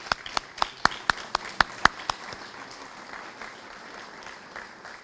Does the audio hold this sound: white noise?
no